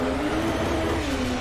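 Drift car engine in the rFactor 2 racing game, revving steadily with a sustained high tone that dips and rises slightly, loud and close with no talk over it.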